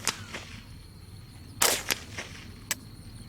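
Several sharp, quiet rifle reports at a shooting range from a custom Ruger 10/22, spaced irregularly and faint, with soft cracks against a low background.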